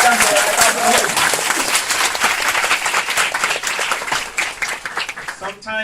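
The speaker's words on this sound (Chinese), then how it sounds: "热烈掌声" Loud, sustained applause from an audience at a company president's address, dense clapping filling the whole stretch and tapering off at the end.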